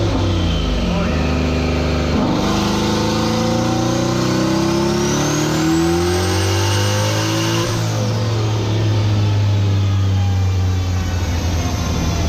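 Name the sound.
1000 whp car engine revving on a dyno pull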